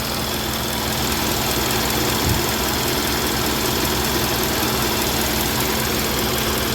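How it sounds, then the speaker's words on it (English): A rebuilt four-cylinder car engine idles steadily with a slight shake, giving a continuous low rumble and mechanical hum close by, with no talking. "Typical 4-cylinder."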